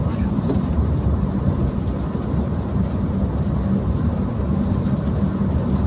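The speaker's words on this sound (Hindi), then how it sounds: "बारिश शुरू हो गई है" Rain beginning while driving, heard as a dense steady hiss and rumble inside a moving car, continuous with no break.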